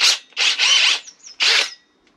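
A power drill cuts a large circle into a camper van wall during a Ducato conversion, loud and close, running in several harsh grinding bursts separated by short pauses, with a faint whine as the tool eases off.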